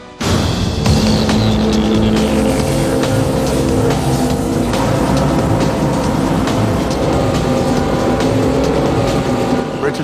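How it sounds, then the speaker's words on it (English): The Aquada amphibious car drives hard and close, its steady loud engine roar and road or water rush continuing throughout with brief voices mixed in. "The Aquada car is one of a kind."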